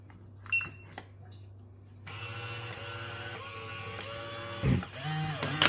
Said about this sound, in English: now you can check and hear the sound of these spraying motors